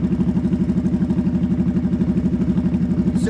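Close motorcycle engine pulling hard in one gear while riding in a straight line, its steady rapid thumping pulse rising in pitch as revs build toward a shift.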